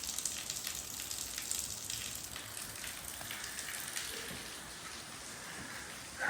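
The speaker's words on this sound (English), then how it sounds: "Look how much rain we're getting." Heavy rain falls steadily, a dense hiss of countless drops on surfaces at close range, loud and unbroken with no voices.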